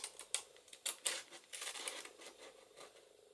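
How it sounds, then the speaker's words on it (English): Pinking shears snipping through paper, a faint series of crisp crunching cuts with irregular rhythm and papery crinkles, quiet and close. "because I'm going to use pinking shears on the top"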